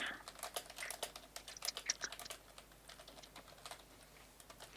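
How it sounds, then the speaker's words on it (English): Rapid typing on a mechanical keyboard, close and clicky, with irregular bursts of keystrokes that cluster densely, then thin out toward the end over a quiet background. "clickety clackety clickety clackety"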